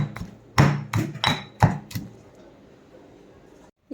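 Ingredients for a crab gravy are crushed with rock salt, giving five or six heavy, close pounding thuds in quick succession, then a quiet stretch and a final knock.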